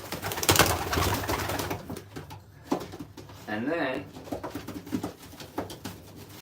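Racing pigeons in a loft coo in repeated low, bubbling calls, partly under a man's nearby speech.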